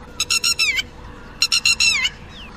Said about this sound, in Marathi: मध्येच एखाद दुसरा कुठला तरी पक्षी जोरात ओरडत होता।